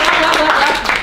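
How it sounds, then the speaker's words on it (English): A church meeting audience breaks into loud, close applause, a brief dense burst of many hands clapping with faint voices mixed in. "Give a round of applause."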